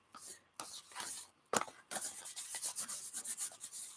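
Black paint is scraped across cardstock in a series of rough, rasping strokes, some short and some drawn out, with brief pauses between them, close and fairly quiet.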